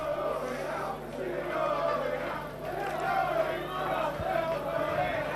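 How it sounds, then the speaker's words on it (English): A rugby league cup crowd in a town stadium murmurs and swells in waves of distant shouting and chanting, heard from above the stands with a steady low hum underneath. "the crowd starting to warm up here underneath us"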